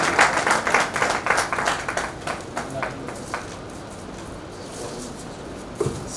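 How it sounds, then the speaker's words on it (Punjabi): Audience applause at a church ordination service, loud rapid clapping from many hands in the first seconds, then thinning out and fading to a quiet room tone, with a brief final burst of claps near the end. "ਜ਼ੋਰਦਾਰ ਤਾਲੀਆਂ ਮਾਰਾਂਗੇ ਇਹਨਾਂ ਦੇ ਵਾਸਤੇ ਵੀ।"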